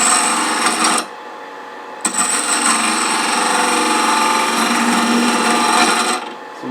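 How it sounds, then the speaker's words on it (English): Wood lathe with a tool cutting a bead on a hollow globe ornament, a bright continuous scraping rasp that cuts off for a second, then resumes for about four seconds before stopping again, no talk. "Now just turning a bead."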